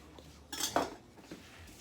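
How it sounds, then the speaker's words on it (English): A knife cuts through butter and apples on a board, giving a couple of faint, close clicks and scrapes of metal against the surface in a quiet kitchen. "I'm cutting the butter while my husband is cutting the apples."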